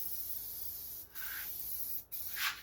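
Dye is sprayed onto car interior panels in short hissing bursts from a spray can or gun, three soft close passes separated by brief pauses over a quiet background.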